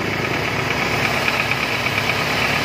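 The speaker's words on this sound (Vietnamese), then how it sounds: "Máy nổ rất êm anh chị nha." A 2002 Daewoo Lanos engine idles with a steady, even knocking hum and faint ticking, close and continuous for the whole stretch with no voices.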